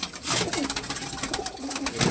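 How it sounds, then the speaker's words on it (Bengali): A Kaldama pigeon coos close by in a short run of soft, throaty, repeated calls, with no talking. "এটা একটি কালদমা পায়রা, খুব ভালো কোয়ালিটির কালদমা পায়রা।"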